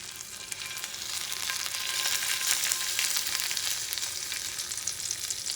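Oil sizzling and frying in a hot pot on a stovetop set a couple notches above medium, a steady bright crackling hiss that holds evenly throughout with no talking.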